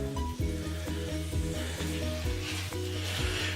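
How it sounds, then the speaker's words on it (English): Butter and garlic sizzle and fry steadily in a pan while cauliflower fried rice is cooked, a continuous hiss heard alone under music-like tonal hum. "I can hear some sizzling, so we're going to throw it in now."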